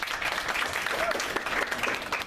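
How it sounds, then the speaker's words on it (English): A live audience applauds a guest speaker at a talk, steady dense clapping filling the room at an even level throughout with no voices over it. "let's give Kevin a big round of applause"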